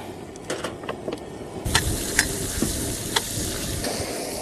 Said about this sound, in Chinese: 把肉煸炒一下啊。